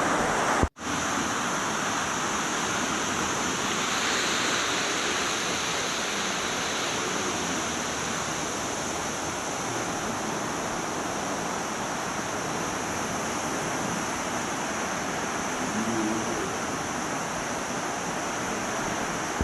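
A waterfall at Jalori Jot in Kullu pours in a continuous broad roar, steady and fairly close, with no voices over it.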